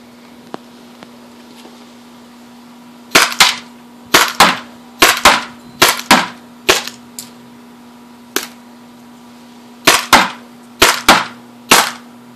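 A Tippmann TiPX paintball pistol fitted with a Hammerhead barrel fires at a box, giving sharp, loud pops in quick bursts of two or three, separated by short pauses, over a steady low hum.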